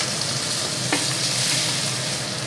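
Boiled teasel gourd sizzles steadily in hot oil with nigella seeds and dried red chilli, a dense close hiss with a brief stirring clink midway and no voices.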